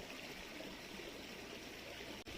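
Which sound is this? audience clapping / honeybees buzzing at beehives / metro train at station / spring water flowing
spring water flowing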